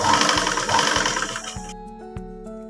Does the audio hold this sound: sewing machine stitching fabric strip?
yes